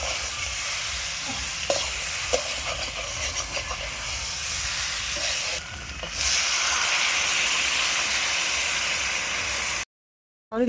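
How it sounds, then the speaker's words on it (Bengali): Potatoes and eggs fry together in a pan for a home picnic meal, a continuous close hiss that grows louder midway and cuts out briefly near the end, with no talk. "এগুলো হচ্ছে পিকনিকের রান্না আলুর ডিম একসঙ্গে ভাজা"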